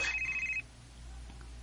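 A mobile phone rings with an incoming call, a clear repeating electronic ringtone for about half a second before it cuts off, leaving a quiet low hum.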